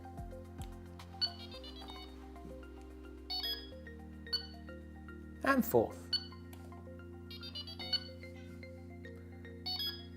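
Delkim bite alarms give several short, bright electronic beeps in separate bursts while being paired to an Rx-D receiver, with a low steady hum beneath and someone talking throughout.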